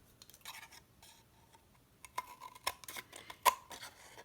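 Scissors trim excess material from a coin protector at close range: quiet, irregular snips and clicks, sparse at first, then a denser run of sharp cuts.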